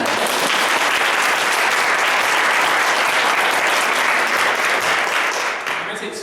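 Room full of students and parents at a debate workshop bursting into loud, sustained clapping for a debate student, dense and close, tapering off at the very end.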